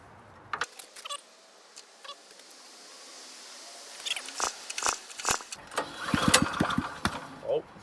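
A used snowblower's small gasoline engine catches and starts after a refuel, settling into an uneven, sputtering run that grows steadily louder over several seconds, with scattered clanks and voices nearby.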